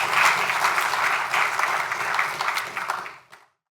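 An audience at a Ladino Day cultural event applauds in a dense, sustained round of clapping that holds steady for about three seconds, then quickly fades to silence.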